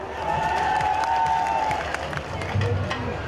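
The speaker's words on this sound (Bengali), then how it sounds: "তো আমাদের পুলিশ সদস্য যারা এত সুন্দর করে পারফর্ম করেছেন তাদের জন্য একটা করতালি হয়ে যাক" An audience at a police cultural rainy-season celebration gives a burst of applause for police performers, a dense steady clapping wash with a faint tonal hum and some crowd noise behind it.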